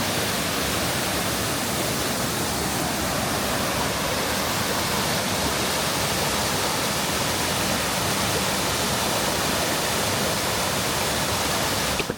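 Mountain valley stream near Seoul, loud continuous rushing water at close range, a dense steady wash with no pauses and no voices.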